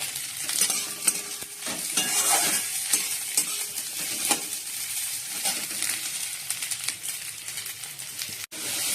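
Spices with ginger and green chilli paste stirred into frying grated coconut in a pan, a continuous close sizzle broken by repeated scraping and clinking stirring strokes, with no talking.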